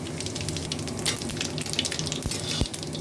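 Dry red chillies, bay leaf and white cumin seeds crackle in hot oil, a dense bright sizzle with rapid popping and a couple of low thumps, close and fairly loud, with nobody talking.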